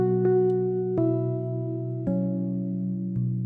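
A Wurlitzer electric piano plays a slow bass part, four sustained low notes struck about a second apart, each ringing out with a soft bell-like attack, quiet and alone.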